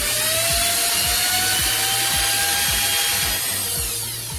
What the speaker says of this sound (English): I'm going to drill those pilot holes a little bit deeper.